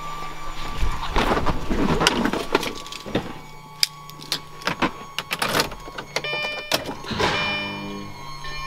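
A Lamborghini engine held at around 2,000 RPM during an oil change gives a close, steady mechanical drone, with scattered clicks and knocks over it and a humming tone near the end.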